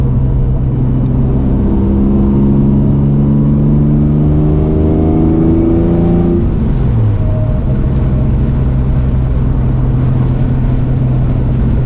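A Jaguar E-Type's engine roars loudly and close as the car accelerates on the road, its pitch climbing through the gears with a brief dip at a shift, then settling into a steady drone.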